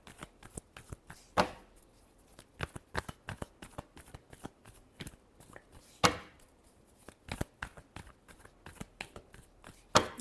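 Tarot cards being shuffled by hand: a rapid run of crisp riffles and flicks with several sharper snaps, close and fairly quiet, with no talking.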